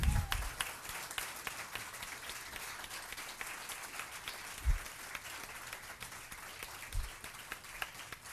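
Audience applause after a film industry panel at a mixer: a sustained, fairly quiet round of clapping from a crowd, with a couple of louder thumps, running the full length.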